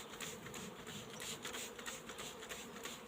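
Honeybees hum steadily at an open hive during an inspection, a continuous soft buzz of many insects with no talking.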